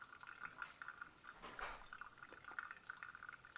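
Water trickling and dripping through a paper filter in a Chemex coffee brewer, a faint, continuous soft flow with small drips, quiet and close, with no voices.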